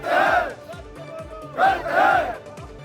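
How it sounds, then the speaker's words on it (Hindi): Crowd of farmers from the Bharatiya Kisan Union chanting slogans at a protest over alleged sugarcane committee election rigging at a police station in Meerut, rhythmic shouted call-and-response bursts, loud and close. "उससे पहले लोगों की नारेबाजी सुनिए"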